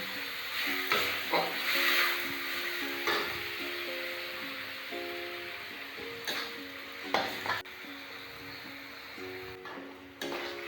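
Spice masala with tomato stirs and sizzles in a frying pan, with scraping spatula strokes and soft clinks over a steady frying hiss, close by, while background music plays quietly.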